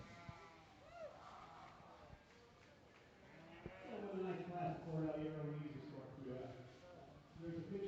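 Sheep bleating at an open sheep show at the Kentucky State Fair, with several drawn-out bleats, one near the start and a longer, louder run in the second half, set against a busy show-ring background with people talking.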